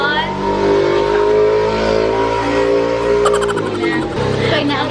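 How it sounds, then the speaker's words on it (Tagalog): A loud motorcycle engine passes nearby outdoors, a steady droning rumble with shifting pitch that swells and fades, with people talking over it. "Ang ingay ng motor."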